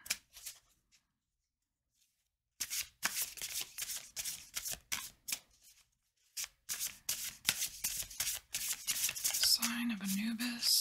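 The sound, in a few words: shuffling tarot cards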